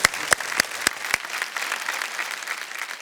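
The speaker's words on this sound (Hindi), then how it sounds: "आपके लिए जोरदार तालियां" A studio audience on a Hindi talk show claps, starting with a few loud distinct claps that quickly blend into steady, moderately loud applause lasting about three seconds.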